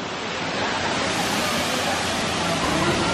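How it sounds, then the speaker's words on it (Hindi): Water tumbling down a mountainside below a hill station viewpoint at Chikhaldara, a dense, continuous roar of falling water, loud and steady throughout with no break. "इधर नीचे पूरा पहाड़ है, उसमें पानी गिर रहा।"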